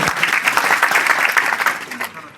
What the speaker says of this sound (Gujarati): એ માણસને ખરેખર તાળીઓથી તમે સૌ વધાવો